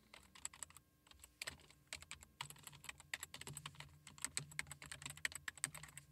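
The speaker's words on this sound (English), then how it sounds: "In this box, type in the URL to your website." Quiet, close computer-keyboard typing as a website URL is entered, a steady run of quick light key clicks with brief pauses between bursts.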